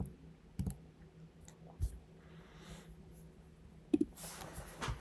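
Pen writing answers on paper during quiet study, faint scratches and a few soft clicks and taps spread across the quiet stretch, no voices.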